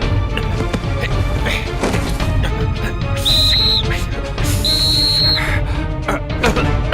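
Two shrill cartoon whistle blasts, the first short and the second longer, sound over busy cartoon sound effects and background music.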